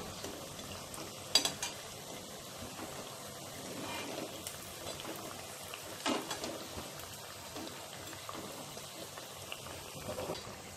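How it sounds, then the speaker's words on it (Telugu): Sweet corn foxtail millet vadas fry in oil over a medium flame, giving a soft, continuous bubbling sizzle with occasional small pops, faint and steady throughout. "ఇవి గోల్డెన్ బ్రౌన్ కలర్ వచ్చేంత వరకు మీడియం ఫ్లేమ్లో వేయించుకోవాలి."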